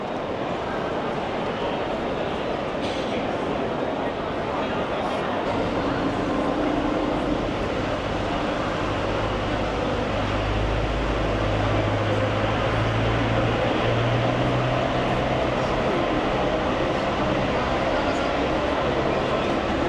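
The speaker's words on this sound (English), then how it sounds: "It's a pretty cool train station." Busy train station in central Rome with trains rumbling and rolling close by, a steady low mechanical drone and hum running throughout, with faint background voices.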